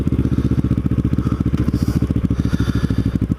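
A Kawasaki Ninja motorcycle ridden on the road, engine running at a steady loud throbbing pulse with rapid regular firing beats, recorded up close from a helmet camera with wind noise and no talking.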